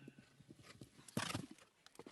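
A horse's hooves strike the arena footing during a show jumping round at Bruce's Field, faint rhythmic thuds with one heavier landing mid-stride, distant and quiet.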